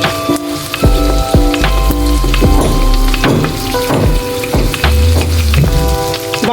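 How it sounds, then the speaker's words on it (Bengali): Onions fry on a home stove for a dried ribbonfish bhuna, a steady crackling sizzle running throughout, overlaid by repeated knocks and clanks from nearby building work. "জলদির জন্য আমি পেঁয়াজটা চুলায় বসিয়ে দিলাম।"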